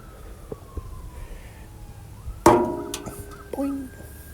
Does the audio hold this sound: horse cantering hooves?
no